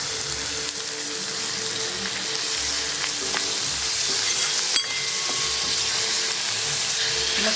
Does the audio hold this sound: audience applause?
no